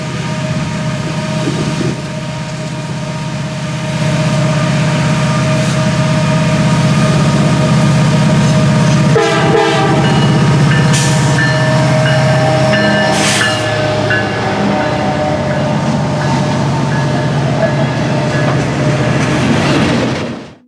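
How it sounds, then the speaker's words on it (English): EMD diesel locomotive in notch 8 running at full power, its turbocharger giving a loud, sustained droning howl with steady tonal whine and engine rumble, plus a brief clanking passage midway. "The turbos on EMD units make a very loud noise that many enthusiasts love to hear."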